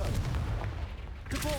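A Confringo explosive spell blast in the Hogwarts Legacy video game lands as a short booming burst of rumbling impact, followed by a second, sharper flare of sound near the end, close and fairly loud.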